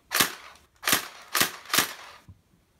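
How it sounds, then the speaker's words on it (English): An H&K MP5A5 dual-power AEG airsoft gun dry firing: four sharp, loud, close mechanical snaps at an even pace, then a faint click, with no voices. "So I'm just dry firing it now."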